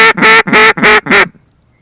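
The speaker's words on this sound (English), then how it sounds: "Kill that duck, Tucker." Four loud, close duck quacks in a quick series out on a public-land duck hunt, each a harsh nasal burst, then sudden quiet.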